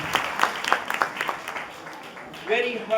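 A church congregation applauding after a sermon reading, with a brief burst of scattered clapping that fades while a voice speaks, then more talk.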